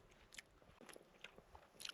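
Bites and chewing on a crunchy canelé pastry, a few crisp crunches spaced over two seconds, close and fairly quiet.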